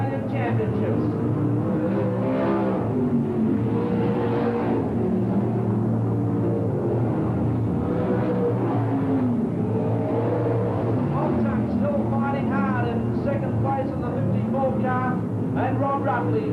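Sprintcars race at the South Pacific Sprintcar Classic, a steady roar of engines running beneath continuous commentary from an announcer.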